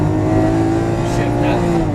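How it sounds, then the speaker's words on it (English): A Lamborghini Aventador LP700-4 on a racing course accelerating out of a turn, its loud, sustained engine roar heard close from inside the car, with an instructor's voice speaking over it. "let it roll through the turn in one long continuous turn, and then accelerate out"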